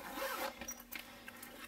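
A fabric zipper on an accordion expanding file folder being pulled open in one continuous rasping stroke, close up and fairly quiet, followed by light rustling of material.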